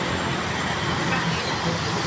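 A train runs along an elevated railway track in Malaysia, giving a steady, loud rumbling roar that fills the whole stretch without a break.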